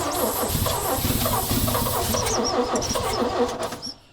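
A 1965 Chevy engine cranks and fires roughly, sputtering unevenly with a busy, rattling churn for several seconds before it cuts off and dies away.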